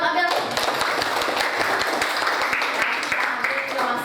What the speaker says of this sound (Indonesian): Tepuk tangan buat Abiel.